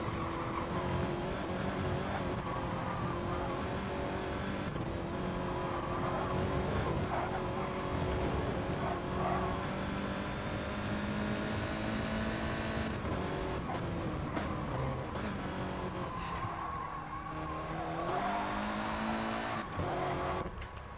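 Audi TT race cars in GT Sport lapping the Catalunya circuit, engines droning continuously and loudly with shifting pitch as gears change, tire squeal and skidding mixed in throughout.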